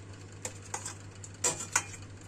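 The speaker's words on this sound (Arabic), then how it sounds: "نقلب ونخلط المكونات مع بعض خلطة كويسة" A few sparse scrapes and clinks of a utensil stirring sausage tajine ingredients in a dish, quiet and spaced out over a steady low hum.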